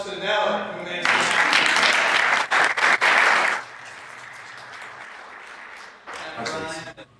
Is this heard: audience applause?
yes